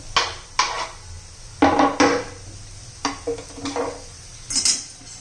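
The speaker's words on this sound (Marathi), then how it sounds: "व्यवस्थित मिक्स करून घेऊया दोन मिनटं चांगलं हलवून घ्यायचे" Minced meat with chopped fenugreek, coriander and fresh peas is stirred in a pan, giving several distinct, close scrapes and clinks of a spoon against metal in uneven bursts with short pauses between.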